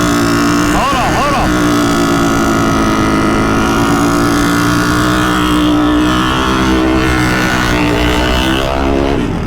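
A KTM 450 motorcycle engine roars steadily and loudly at racing pitch throughout, with a brief rising rev early on, while someone talks over it.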